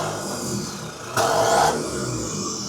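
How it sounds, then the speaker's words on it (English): Steady rumble of a boat's turbo diesel engine idling close by while warming up, with one brief rise in revs partway through before settling back to a constant drone. "We're warming it up, letting it idle for about a minute or 2 with a few revs in between"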